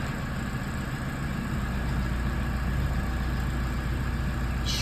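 A diesel car with a restricted particulate filter idles: a steady, close, continuous engine drone and low rumble, unchanging throughout.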